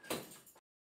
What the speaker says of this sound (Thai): ไม่มีอะไรปิดประตูหน่อยนะ